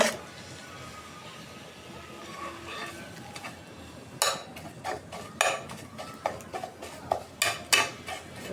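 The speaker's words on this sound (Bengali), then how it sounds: "এটা এখন ভালোভাবে কষাই নেবো" Fried eggs are sautéed with spices in a pan, starting with a soft sizzle, then a spatula scrapes and clinks against the pan in a run of rhythmic strokes that grow sharper and louder.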